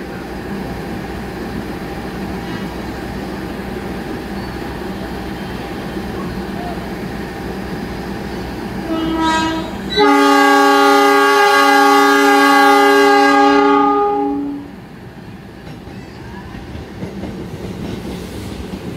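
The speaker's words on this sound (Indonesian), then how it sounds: "jalur 4 Argo Cirebon berangkat" The Argo Cirebon train pulls out of a busy Jakarta station on track 4, a steady rumble of rolling cars joined by a loud, sustained horn blast lasting several seconds before fading back into the station din.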